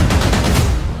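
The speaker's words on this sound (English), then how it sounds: "Were those gunshots?" Gunshots in a movie trailer, a dense burst of rapid gunfire packed into about a second, loud and continuous like a fusillade with no pauses between shots.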